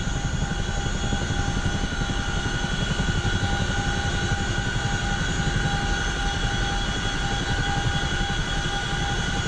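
A CH-47F Chinook helicopter in the DCS flight game drones with steady turbine whine and rhythmic tandem-rotor thumping as thrust is added, loud and continuous with no voice over it.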